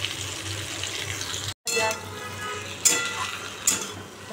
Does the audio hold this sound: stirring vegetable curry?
yes